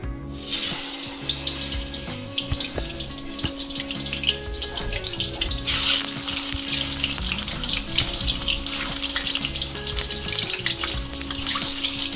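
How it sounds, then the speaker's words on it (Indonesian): Tofu sizzles and crackles as it fries in oil in a wok, a continuous close hiss with a sharper surge of spattering partway through, steady throughout without talk. "Nah, baru kita masukin tahunya biar nggak nempel di wajannya."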